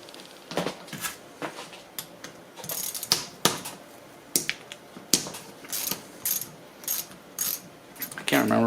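Irregular metallic clicks, ratcheting and clinks as a motorcycle thermostat housing is taken apart, close and fairly loud, in short bursts separated by brief pauses.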